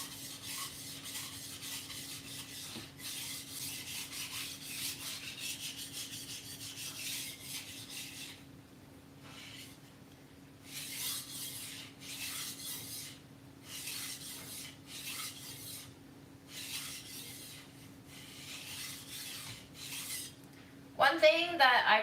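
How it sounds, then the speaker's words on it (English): A cleaver blade is sharpened with repeated scraping strokes, a close, fairly quiet gritty rasp that comes in bursts separated by brief pauses, with a low steady hum underneath and a metallic clatter at the end. "I probably should have looked up a tutorial on how to sharpen cleavers before I started this"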